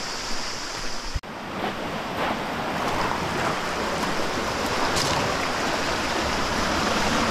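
Water of the Zrmanja river rushes through a canyon, a loud, steady broadband roar heard close by after a brief knock near the start, with no voices.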